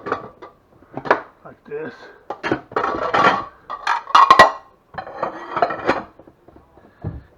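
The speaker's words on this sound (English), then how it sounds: "now what I want to do is get a bowl" A kitchen bowl is lifted out and set down on a counter, giving a few scattered clinks and knocks between stretches of a person talking.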